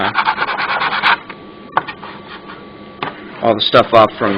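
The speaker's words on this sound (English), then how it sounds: "sanding it" Repeated dry rubbing strokes of sandpaper on the Corvex64 screen bezel, a quick rhythmic rasping burst, then a pause with a faint steady hum and scattered scrapes, followed by more close sanding strokes near the end.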